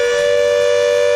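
Air raid siren used as the Armageddon alert in the factory-building game Factorio, a loud sustained steady wail holding one tone throughout, with no other sounds.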